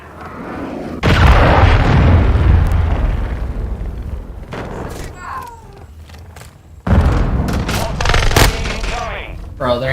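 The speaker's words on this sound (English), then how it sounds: "Hostiles launched a cruise missile." Cruise missile strikes in Call of Duty, with loud booming explosions and rumbling blasts in two heavy waves separated by a quieter stretch of scattered gunfire, close and intense.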